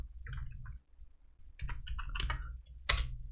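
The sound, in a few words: typing on a computer keyboard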